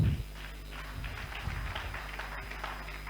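A round of applause at a community interactive session with police in Ghana, faint scattered clapping over a low steady hum, fairly distant and thin.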